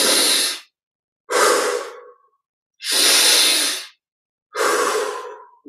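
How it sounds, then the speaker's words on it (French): Deep breaths during a guided meditation, four long audible inhale-exhale sighs, close and clear with silent pauses between each breath. "Et on respire 20 fois profondément."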